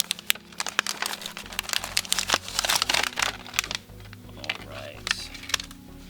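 Toy packaging for a wind-up diver is opened by hand, giving a run of sharp plastic crinkles, snaps and clicks in irregular bursts, close and fairly loud.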